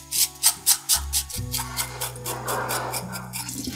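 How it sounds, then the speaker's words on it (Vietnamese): A small knife scrapes the skin of a pork hock in quick rhythmic strokes, about half a dozen sharp rasping scrapes up close, then a softer continuous rubbing under faint background music. "Mình sẽ dùng một cái con dao nhỏ này để mình cạo cái phần da cho nó thật là sạch nha."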